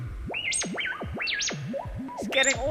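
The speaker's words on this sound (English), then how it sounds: "And of course, you need a spring reverb." An ARP 2600 M synthesizer with spring reverb plays sweeping, swooping pitch glides that rise and fall repeatedly, each note trailing a boingy reverberant tail, with a brief burst of dense metallic clatter near the end.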